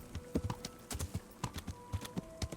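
Horse hooves clip-clop in a steady, quick rhythm in the medieval video game Kingdom Come: Deliverance, crisp and close with a faint background hum and no talk.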